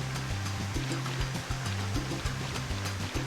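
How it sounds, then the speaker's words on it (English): Rushing waterfall ambience on an island seashore in the video game Kingdom Hearts Final Mix, a steady broadband wash of falling water under a repeating low musical loop, with no talk. "It is actually right past Waka, right here, the waterfalls."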